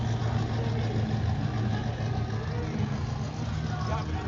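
A Chevrolet Malibu car's engine idles with a low, steady exhaust rumble at a car show. It sounds faint and continuous, with a bit of background noise.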